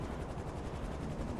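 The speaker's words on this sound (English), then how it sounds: "I'm watching the helicopter slowly descend towards some roof." Helicopter rotor chopping faintly and steadily in Grand Theft Auto V, a soft continuous thrum with no voices over it.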